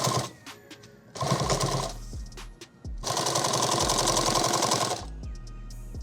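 A sewing machine hems the side of a fabric bag in two loud, close bursts of rapid mechanical whirring, a short run and then a longer one, separated by quieter clicks and pauses.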